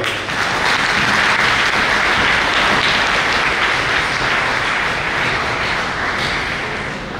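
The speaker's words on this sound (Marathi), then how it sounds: "त्या सगळ्यांच्या नावाने एक जोरदार टाळ्या होऊन जाऊ" An audience in a hall applauds medical students at a white coat ceremony, giving loud, dense, sustained clapping that holds steady for several seconds and only eases slightly near the end.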